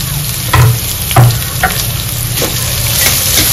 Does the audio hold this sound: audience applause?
no